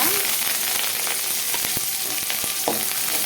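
Chana dal and curry leaves fry in hot oil for a ridge gourd chutney, giving a steady, loud sizzle with scattered pops and crackles and occasional stirring, with no talk.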